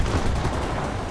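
Aircraft gun pods rattle out a dense, continuous burst of rapid fire in War Thunder, loud and unbroken across the whole moment with no talk over it.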